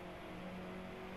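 An Alfa Romeo 4C engine in the DriveClub racing game, on a Trotternish, Scotland route, holds a steady high drone for just over a second, loud and continuous with no talk over it.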